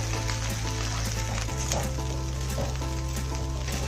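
Vegetable fried rice stir-frying in a pan on the stove, a dense continuous sizzle with a low burner rumble and occasional scraping stir strokes, close and steady throughout.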